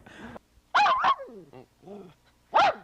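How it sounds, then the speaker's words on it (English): A dog in the balcony of a TV studio gives a few close, sharp barks and yips with whimpering, whiny tones between them in an uneven rhythm. "we've been visited in the balcony by Spot the Wonder Dog once again"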